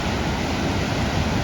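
Waves crash against a black rocky coastline in a loud, continuous roar of surf that fills the whole stretch with no pause.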